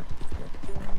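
Hooves of a big, fast horse in the video game Red Dead Redemption 2, pounding in a quick, steady clip-clop rhythm that stays close and loud across the moment with no pause or slowdown.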